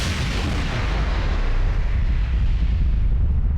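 Booming explosions in the Mass Effect Legendary Edition PC game, a dense, continuous roar of blasts and rumbling fire, loud and close, with no voices.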